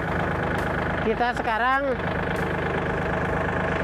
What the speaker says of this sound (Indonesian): menjalankan traktor ya, masukkan ke gigi satu